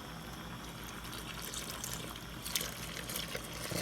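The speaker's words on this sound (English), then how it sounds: "I'm just going to pour the milk in." Milk poured into a bowl of yeast and a little sugar while making stollen dough; a soft, close liquid pouring and trickling sound lasting a few seconds, with faint splashes toward the end.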